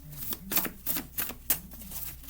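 Tarot cards being shuffled by hand, giving a run of quick, crisp papery riffles and flicks in uneven bursts, close and fairly quiet, with no voices.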